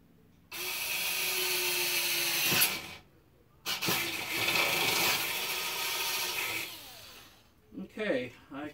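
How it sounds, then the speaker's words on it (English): An 8-volt Black & Decker cordless drill bores through material in two sustained bursts with a brief pause between, whining and grinding steadily up close, followed by a short spoken aside as it stops. "So we're just going to drill this out."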